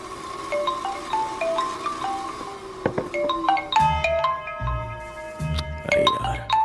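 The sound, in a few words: phone ringing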